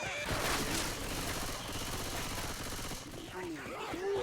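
Dense automatic gunfire rattles continuously through a Left 4 Dead match, loud and close, with several weapons overlapping. Game character voices call out over the shooting near the end.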